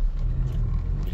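A car on a test drive after EGR valve, intake manifold and throttle body cleaning, with a steady low engine and road rumble heard from inside the cabin.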